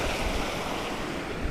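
River water rushes in a steady, dense broadband wash that holds an even level throughout, close and continuous with no voices over it.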